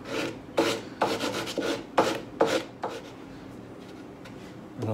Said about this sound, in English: Just need to do a little sanding on these corners.